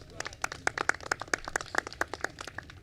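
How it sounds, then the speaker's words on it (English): Faint, scattered applause from a small audience at an official press event, a few dozen quick claps at an uneven rhythm, heard from a distance. "Let's give him a round of applause."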